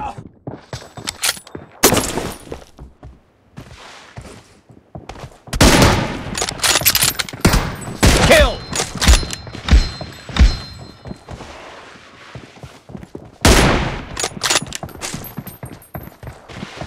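Loud bursts of gunfire from the battle-royale game PUBG, clustered volleys with heavy thumps and rapid automatic fire, separated by quieter gaps across the stretch.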